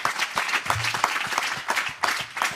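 Audience applause at a urology professional congress, a dense wash of many hands clapping steadily and fairly near, with a few louder individual claps standing out and faint voices underneath.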